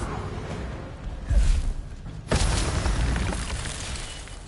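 The Incendio fire spell in Hogwarts Legacy lands as two bursts a second apart. The first is a whooshing blast and the second a sharper crackling explosion that trails off into a roaring fire.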